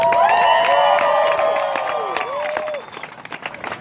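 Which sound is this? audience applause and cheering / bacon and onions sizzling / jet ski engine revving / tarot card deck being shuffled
audience applause and cheering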